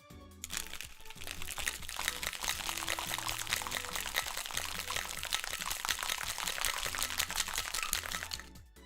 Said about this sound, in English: let me know if you hear ice cubes shaking